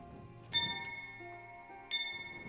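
A bell rung in Kingdom Come: Deliverance, sounding two bright metallic strikes about a second and a half apart, each with a ringing tail that hangs over quiet game ambience.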